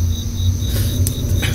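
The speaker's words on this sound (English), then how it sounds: "we're just sitting out here listening to the crickets, cicadas. Well, I guess this is crickets." Crickets chirp outdoors at night from a front stoop. A steady, high trill carries on without a break over a low background rumble, with nobody speaking.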